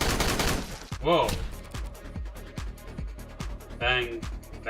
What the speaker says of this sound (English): You just fire 6 shots more?